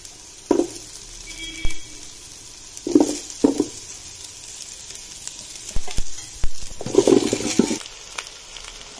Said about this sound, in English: So after the onion and the ginger is slightly cooked, we will now add the pumpkin and the carrots.